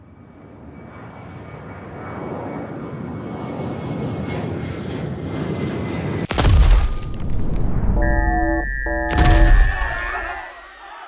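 Airplane flying in a sci-fi alien invasion audio drama, a propeller-engine drone swelling louder for several seconds before two heavy booms crash in, with electronic tones sounding between them.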